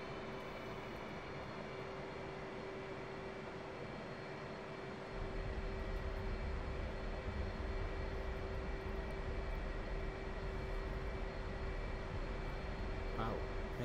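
Steady, loud aircraft engine drone inside a plane during an RAF air-to-air refuelling tanker meetup, a continuous hum with a constant tone that grows slightly louder partway through, and no talking.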